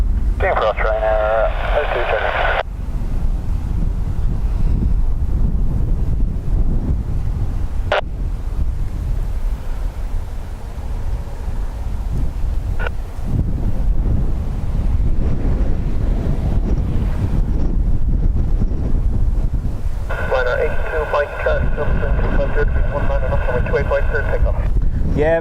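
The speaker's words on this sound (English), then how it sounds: "I can hear the wind now when I turn that direction, it's picking up from behind me." Strong wind buffets the microphone at an airport runway, a continuous roaring rumble that lasts throughout, while radio voices and talk come through beneath it at the start and end.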